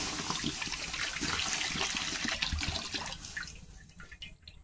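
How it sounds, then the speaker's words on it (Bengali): A full litre of milk poured from a container into a wok on the stove, a steady close splashing pour running about four seconds before thinning out and trailing off. "আমি 1 লিটার দুধ দিয়ে দিলাম।"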